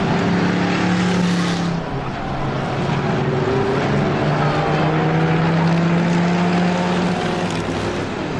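Race cars roar around a short oval motorsport track, a loud, steady engine drone with rising and falling pitch as several cars run close together and pass, with no talk over it.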